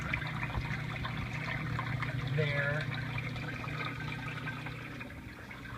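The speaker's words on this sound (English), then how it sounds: "that pumps the water through this tube" A fish tank return pump pushes water through a green tube, giving a steady low hum with a continuous trickling wash underneath, close by, while a person talks over it.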